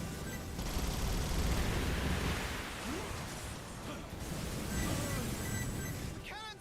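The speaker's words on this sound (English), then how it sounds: "The large cannons are activating. They're firing. These are plasma cannons." Plasma cannons fire in Earth Defense Force 5 at an enemy outpost, a roaring wash of blasts and rumbling bursts with a few faint chirps near the end, loud and sustained.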